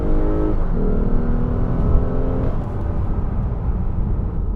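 A 2015 Lexus GS 350 F Sport launching hard in Sport Plus mode, engine rising loudly as it accelerates, with a rise in pitch, a shift, then a sustained climb heard from inside the car.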